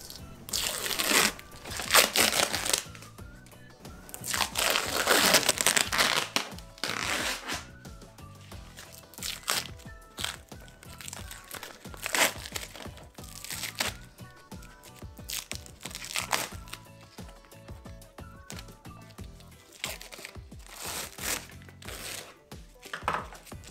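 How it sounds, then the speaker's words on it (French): Masking tape is peeled off a century-old wooden barrel in repeated crackling, ripping bursts, some long and some short, close and fairly loud, with no talking. "ce petit moment satisfaisant où on enlève les scotch et on voit le bois qui apparaît"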